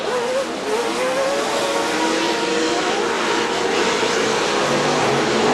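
Off-road race trucks in the CORR series tear around the Chula Vista track in 2008, engines roaring loud and close in a continuous dense wash of revving and tire noise.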